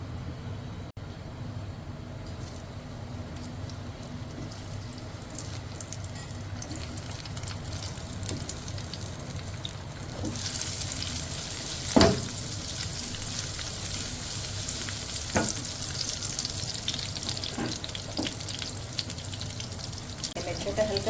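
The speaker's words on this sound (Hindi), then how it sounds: "इसको मैं हल्का सा फ्राई करूँगी पहले मिर्चों को" Green chillies fry in a little oil in a pan with a steady, soft sizzle and crackle that runs throughout, plus a few faint clinks and a slight rise in hiss partway through.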